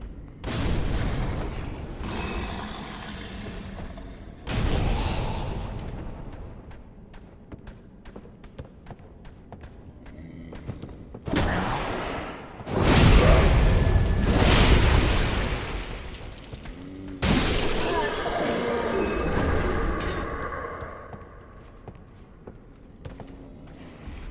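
Bombs exploding in Dark Souls, several heavy booms arriving one after another at intervals of a few seconds, each a loud burst that fades out, with quieter game sounds in the gaps.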